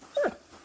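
A single short, high whimper from a dog in the video game Kingdom Come Deliverance II, close and soft, over a quiet background.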